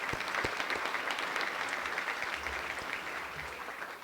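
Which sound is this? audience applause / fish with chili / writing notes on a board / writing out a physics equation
audience applause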